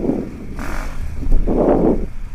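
A KTM 690 Rally Raid motorcycle pulls away with a short, close rise of engine revs as the clutch engages, a brief burst of single-cylinder drive lasting about a second.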